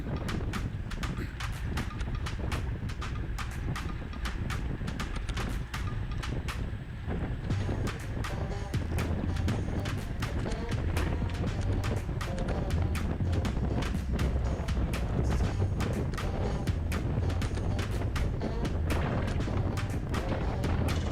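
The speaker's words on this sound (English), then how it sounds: "Now we got that huge crosswind left to right." Strong wind roars and buffets across the microphone during a crosswind in a Category 5 bike race at Floyd Bennett Field, loud and continuous with gusty flutter.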